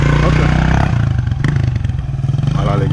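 A motorcycle passes close by on a road, its engine a loud, pulsing drone with a rattling clatter that rises and falls as it goes by, heard under a voice talking.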